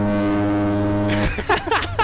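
Vehicle horn in Farming Simulator 19 during a forestry session, a loud steady buzzing blast lasting over a second before cutting off into excited talk.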